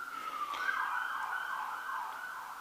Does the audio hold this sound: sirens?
yes